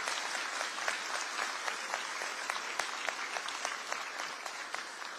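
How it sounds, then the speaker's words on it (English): Audience applause at a laptop distribution event for flood-affected students, sustained even clapping from a crowd heard at a moderate distance throughout. "Please give a big round of applause to AT&T and CompuDopt"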